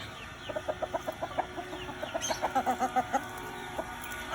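A rooster clucks in a quick run of short, evenly spaced notes, pauses briefly, then clucks again in a second rhythmic series, moderately close, in a backyard.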